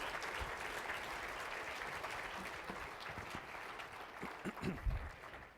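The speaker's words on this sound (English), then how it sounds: "Let's give him a round of applause" Sustained audience applause fills a large event hall for a departing guest, dense and steady throughout, with a few louder claps and low voices surfacing near the end.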